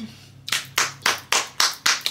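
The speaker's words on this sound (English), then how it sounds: "A round of applause for us because we just ate down for real." Several loud, close hand claps, about six in a slow, steady rhythm, from a small group in a home kitchen after a cooked meal of lamb chops, mashed potatoes and asparagus.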